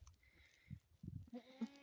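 A baby goat gives a couple of faint, short bleats close by, with soft rustling and handling noise around it and no speech.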